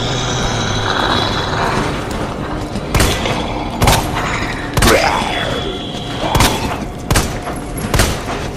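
Repeated sharp gunshot bursts crack out every second or so over a constant engine-like drone, loud and close, with no talking, in the video game Resident Evil 2.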